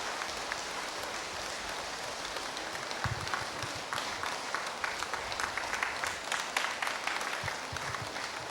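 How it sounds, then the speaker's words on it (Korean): Crowd applause welcoming a guest monk at a Buddhist Baekjung memorial ceremony at a temple, a dense steady patter of clapping that swells slightly toward the end, with no voices over it. "큰 박수로 맞이해 주시기 바랍니다"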